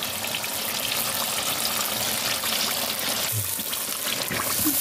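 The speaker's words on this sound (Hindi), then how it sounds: "अब इसमें ऐड करने लगे हैं दही" A cup of yogurt goes into a chicken karahi over a continuous loud sizzle and bubbling hiss from the hot pan, steady throughout with a faint soft plop. No one talks.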